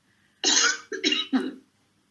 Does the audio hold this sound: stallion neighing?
no